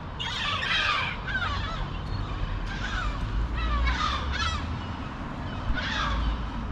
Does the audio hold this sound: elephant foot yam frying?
no